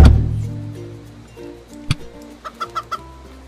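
In the CHKN video game, a chicken creature gives a short series of clucks near the end, four or five quick close calls after a thud and some low game sounds.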